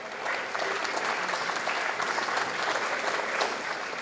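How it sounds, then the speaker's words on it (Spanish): Strong, steady audience applause fills a forum hall as a vice minister is welcomed back to the stage, a dense wash of many hands clapping without a break for about four seconds. "lo recibimos nuevamente con fuertes aplausos"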